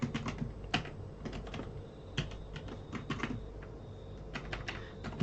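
Computer keyboard typing with irregular bursts of clicks and a few sharper shift-click presses, close and steady over quiet room tone with no talking.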